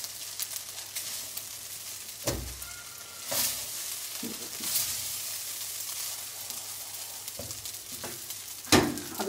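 Fried rice stirred in a hot pan with a spatula, a steady soft sizzle broken by a few sharper scrapes and knocks of the spatula against the pan.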